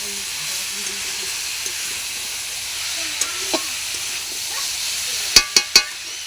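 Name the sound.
spices being stir-fried (kosha) in a pan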